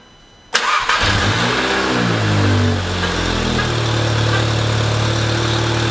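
An Audi S3 cranks and fires into life with a sudden loud burst, then settles into a steady, close idle whose pitch wavers slightly as it steadies.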